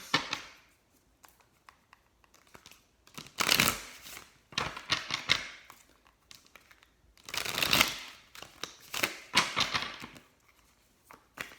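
A deck of tarot cards is riffled and shuffled in bursts of crisp flapping and slapping, close up, with quieter pauses and light handling between, and no voices.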